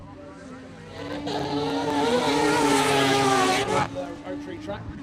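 Rotary-engined off-road racing truck at a short-course championship screams past, its high-pitched engine note swelling loud then fading, with a commentator talking over it.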